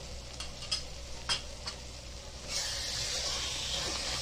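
Masala being sautéed with tomato puree in a pan for masoor amti: soft scraping stir strokes at first, then a louder steady sizzle and hiss as the puree hits the hot pan, no voices.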